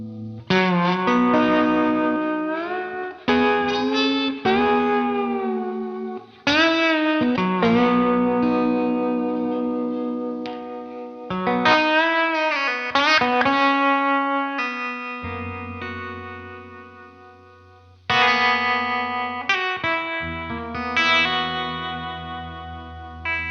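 A Novo electric guitar plays twangy, effects-laden chords and bends with a warm, swampy tone, ringing out continuously and fairly loud.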